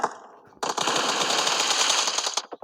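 Automatic gunfire in a shooter video game rattles out as one loud, sustained burst of rapid shots lasting nearly two seconds, then cuts off sharply.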